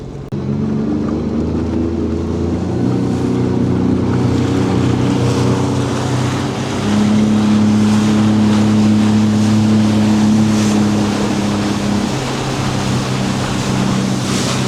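Large cargo ship Juno of the Polsteam fleet, a 14-year-old Bahamas-flagged vessel, sailing on Lake Erie: a steady low engine drone with tonal hum, wind and water wash over it.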